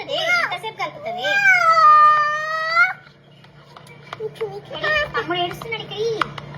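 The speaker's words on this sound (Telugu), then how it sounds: "తమ్ముడు ఏడుస్తున్నాడు." A baby boy cries in a home kitchen, a sustained rising wail of about two seconds followed by shorter whimpering cries, close by and mixed with someone talking.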